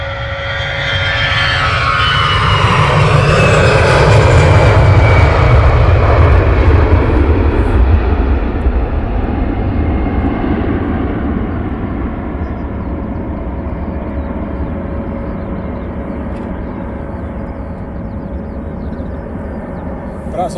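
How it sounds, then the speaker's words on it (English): Wizz Air airliner keeping its engines running after landing at London Luton Airport, a loud broad roar that swells over the first few seconds and then slowly fades while a steady tonal whine lingers throughout. "That noise in the background was the last Wizzair that landed. Is certainly keeping his engine running there."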